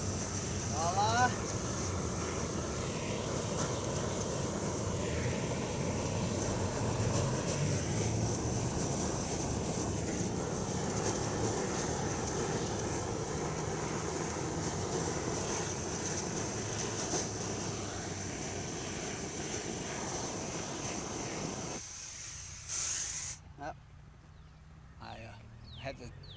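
Gas torch flame roaring while burning holes in a pumpkin at a pumpkin patch, a broad steady rushing roar lasting over twenty seconds, close and continuous, with someone talking over it before it cuts out abruptly.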